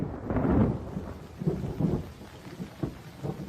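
Heavy rain pours steadily while low thunder rumbles in a few rolling swells, deep and fairly close, with no voices over the storm.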